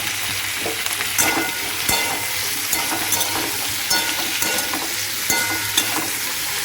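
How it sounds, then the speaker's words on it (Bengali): Chicken pieces frying in butter in a pan, a steady hiss of sizzling with occasional soft scrapes and stirring clicks, moderately loud and uninterrupted by talk. "টেস্ট বাড়ানোর জন্য হালকা করে একটু ভালো ভালো করে ভেজে নেব"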